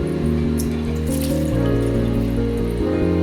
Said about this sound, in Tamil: நல்லா தண்ணியை வடி.